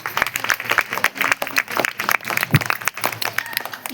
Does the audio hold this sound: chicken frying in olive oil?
no